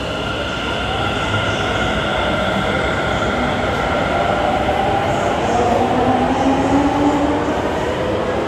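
A Delhi underground metro train pulls away from Lajpat Nagar station with a loud, continuous rumble, rising whine and faint wheel squeal echoing in the enclosed platform.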